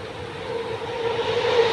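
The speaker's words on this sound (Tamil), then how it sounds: "ஐயோ, இந்த ட்ரெயின் வருது கைஸ்." A train approaching in the Five Nights at Freddy's game, a rumbling rail drone with a steady tonal hum that swells louder as it nears.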